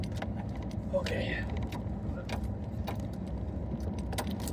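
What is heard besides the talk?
truck engine running with heater on, keys jangling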